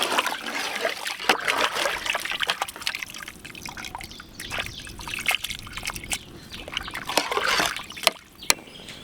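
Water pours and trickles into a pot of village-style country chicken seasoned with rock salt and turmeric, a steady close liquid dribble with small splashes and sloshes, no talking.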